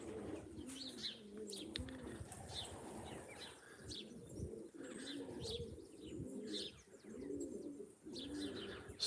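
Racing pigeons at a loft, soft repeated throaty cooing from several birds close by, mixed with occasional wing flaps and faint chirps, at a low overall level.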